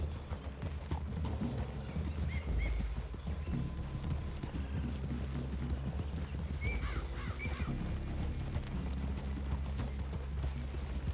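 Horses' hooves clip-clop at a walk through a wooded clearing in the Red Dead Redemption 2 game, a steady soft plodding over a constant outdoor ambience with faint distant bird calls.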